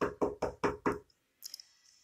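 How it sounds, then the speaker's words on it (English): Five firm, evenly spaced knocks on a door, close and loud, then a brief pause and a faint higher-pitched rattle or squeak. "their guide arrived and she knocked at the door."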